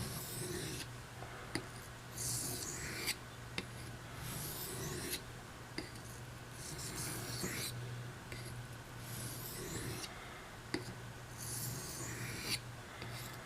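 A knife edge is drawn over a sharpening stone to refine a shiny bevel, giving about a dozen soft, rasping strokes in an even back-and-forth rhythm, close but quiet.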